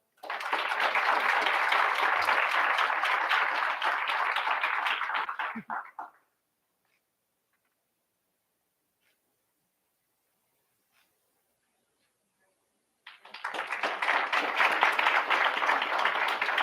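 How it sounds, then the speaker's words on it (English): An audience at a school board public session applauds honorees in two bursts of dense clapping, separated by a stretch of near silence before the clapping swells again. "Let's all give one more round of applause for all of our honorees."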